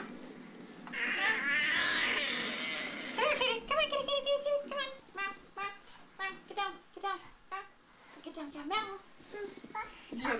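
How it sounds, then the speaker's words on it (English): Kittens meow repeatedly, several short, high cries in quick succession up close, with a voice and soft rustling nearby. "See little kitties."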